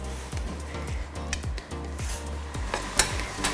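A small offset palette knife smooths cake batter for a brown butter cookie dough layer cake, making a steady series of short, soft scraping strokes against the pan, close up and with no talk.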